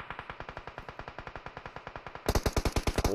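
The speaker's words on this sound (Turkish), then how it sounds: "Sol kaydan sürekli Aliço'nun olduğu bölgeye atışlar var." Rapid automatic gunfire in a battle royale video game rattles off as an evenly spaced string of about thirty sharp shots, then a louder, brighter burst takes over for the final second, heard without talk.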